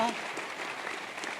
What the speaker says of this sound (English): come on, clap now